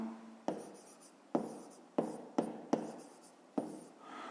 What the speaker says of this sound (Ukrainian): Ну що ж, записуємо тоді, пишемо за умовою.